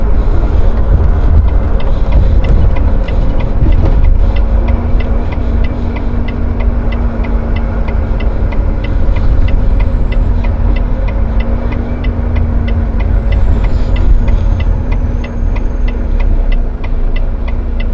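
Vehicles idling in a night-time traffic jam produce a loud, steady low engine drone with a faint hum and a regular ticking that runs through the whole stretch, with no talking.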